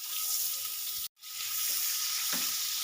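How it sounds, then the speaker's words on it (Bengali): Chopped onion frying in hot oil for a hilsa fish curry, a loud, dense, hissing sizzle close up, cut by a brief drop-out, with a couple of soft stirring clicks. "এবার আমি দিয়ে দেবো যে একটা পেঁয়াজ কুচিয়ে রেখেছিলাম পেঁয়াজ কুচি"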